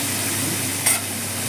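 Curry leaves sizzle in hot oil in a pan, giving a continuous fizzing hiss with a brief louder stir or scrape near the end.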